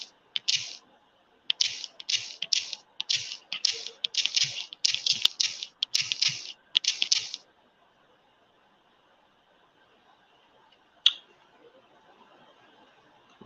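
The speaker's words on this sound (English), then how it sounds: "I'm typing it into the chat right now." Quick bursts of typing into a chat on a computer keyboard, close and crisp, in a run of rapid clusters that stops, followed by quiet and one last key tap.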